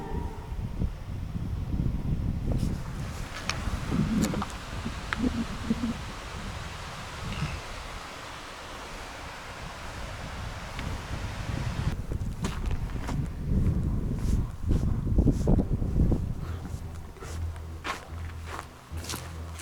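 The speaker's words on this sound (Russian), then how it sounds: "Я слышу просто какой-то периодический звук, как будто шелестение какой-то листой." Leaves rustle and crunch in uneven bursts at night on a bridge, like footsteps moving through dry foliage, with wind noise between.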